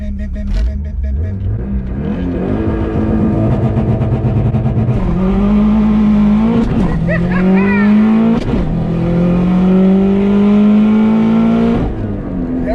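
A turbocharged 500 hp Subaru STI engine revs hard and climbs in pitch with rising wheelspin, loud and close, tires chirping as it pulls through first gear.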